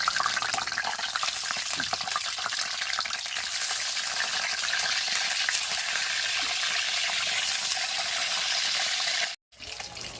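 Eggs frying one by one in hot oil in a pan, a steady close crackling sizzle lasting several seconds before a sudden brief drop to silence near the end.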